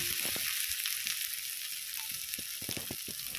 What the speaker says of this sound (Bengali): কালো জিরে, কাঁচা লঙ্কা, আদা একসঙ্গে খুব সুন্দর করে কষিয়ে নিয়েছি